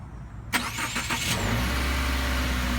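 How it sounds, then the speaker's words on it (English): A 2018 Subaru Outback starts up: a short starter whir cranks for under a second, then the engine catches and settles into a steady, close idle hum. "Just when you start up the car"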